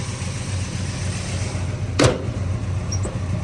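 A 1966 Chevrolet Chevelle V8 with a big fan holds a steady, low idle nearby. There is a single sharp knock partway through, and no one speaks.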